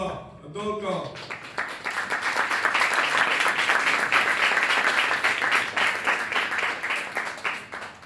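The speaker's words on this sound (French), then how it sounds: "demander à l'illustre audience de bien vouloir s'applaudir" After a brief moment of speech, a large festival audience in Abidjan breaks into sustained, loud applause that carries on steadily to the end.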